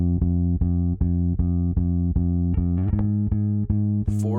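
An electric bass pulsing in steady eighth notes, repeating one low note evenly before shifting pitch near the end.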